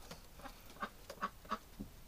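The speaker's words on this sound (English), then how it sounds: "I thought that was the other pretty duck." A duck quacks several times in short, nasal bursts, spaced irregularly and faint at a moderate distance, with no voices over them.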